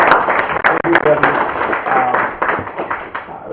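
Audience applause at an African Liberation Day celebration: a crowd clapping steadily and loudly, dense rapid hand claps filling the whole stretch, with a voice speaking over it.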